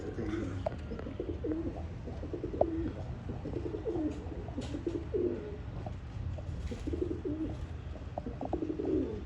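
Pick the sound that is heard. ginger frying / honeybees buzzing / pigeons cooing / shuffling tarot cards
pigeons cooing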